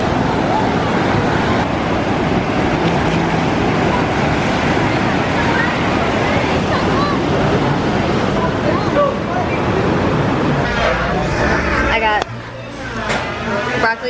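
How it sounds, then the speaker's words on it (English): Ocean surf rolls onto a California beach in a steady, loud wash blended with gusty wind noise, easing off near the end while voices talk over it. "I'm on the beach."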